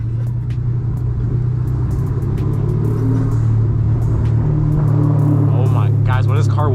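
A 1000 hp Dodge Hellcat Redeye rolls downhill through the Hollywood Hills, its exhaust rumbling and popping in a steady deep drone heard from inside the car, with a person speaking over it toward the end.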